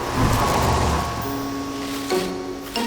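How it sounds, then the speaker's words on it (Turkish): A car's engine rumbles close by at first, then settles into a steadier lower drone over a few seconds, heard alone. "Araba!"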